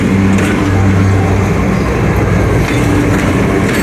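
A GEU40 4000-horsepower diesel locomotive leads an express train into Khanewal Junction in Pakistan, a loud, close, continuous rumble of engine and rolling wheels with steady clatter and no talking.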